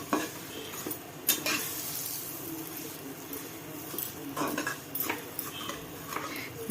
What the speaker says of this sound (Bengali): দিয়ে ভালো করে কুড়কুড়ে করে একদম ভেজে নেব